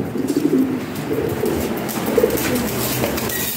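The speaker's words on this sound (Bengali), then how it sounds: "এগুলো অরিজিনাল লাহোরি কবুতর" Lahori pigeons coo in soft, low, repeated throaty bursts, close by, with a faint background hum and no talking.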